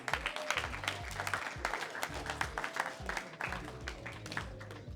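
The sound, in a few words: audience applause at a graduation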